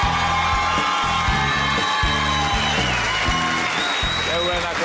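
Studio audience on a television show cheering and whooping with applause for a guest, with rhythmic music pulsing underneath, loud and close, while a presenter talks over it.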